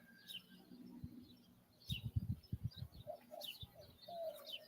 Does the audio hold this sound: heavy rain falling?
no